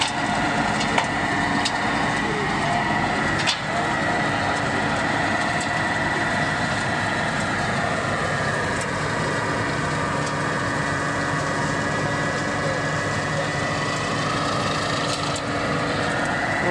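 A tractor-mounted mulcher runs continuously at night, cutting and shredding grass and weeds with a loud, steady engine drone and a dense mechanical roar and rattle that hardly changes throughout.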